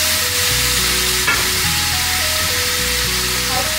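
Tomatoes hit frying mutton masala for dal gosht, setting off a loud, steady, close sizzle that runs through the whole stretch with a tonal background melody underneath.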